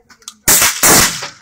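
Tavor .223 rifle fired on a range, two loud sharp shots close together, each with a short ringing tail.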